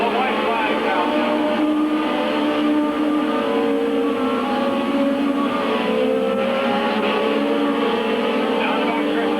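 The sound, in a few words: race cars on the final laps at Midvale Speedway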